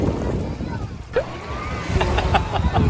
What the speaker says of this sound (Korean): 와 파도 온다